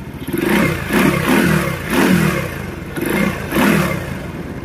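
A Euro Marvel 125 motorcycle engine idling after a tune-up with adjusted valve clearance, a close mid-pitched putter pulsing in short regular revs, each blip swelling and fading about once a second.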